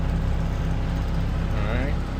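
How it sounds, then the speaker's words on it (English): A garbage truck's PTO hydraulic pump runs with a steady loud low drone, continuous throughout with no breaks. "PTO pump is on."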